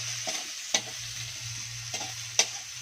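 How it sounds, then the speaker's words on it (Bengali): Onions fry lightly in a pan for an egg and brinjal village dish, a constant low sizzle punctuated by a few sharp spatula scrapes and taps, close and alone without talk. "পেঁয়াজগুলো আমি হালকা হালকা করে ভেজে নেবো"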